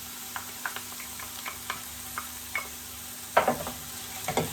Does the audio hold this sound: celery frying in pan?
yes